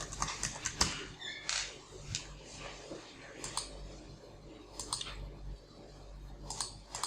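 Keys tapped in short irregular bursts on a computer keyboard while typing a search, quiet clicks spaced across several seconds with low room background.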